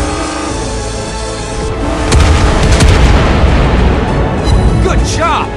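Naval gunfire and explosions as an enemy ship is destroyed in World of Warships, a loud booming burst swelling midway over steady background rumble, with a voice sounding faintly alongside.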